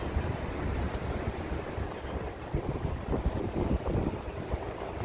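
Gusty wind buffets the microphone on a cold New York City street near Madison Avenue, a steady low rumble with louder surges throughout and no talk.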